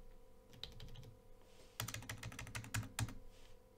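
Soft computer keyboard typing while entering a Git command, a few scattered keystrokes followed by a quicker clustered run of clicks, close but quiet.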